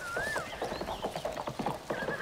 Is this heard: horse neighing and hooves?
yes